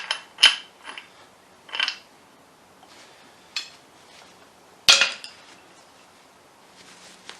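A wrench works a tight bolt on a classic Mini A-series engine during clutch removal, giving scattered metallic clinks and clanks up close, with one sharp, louder clank partway through and no talk.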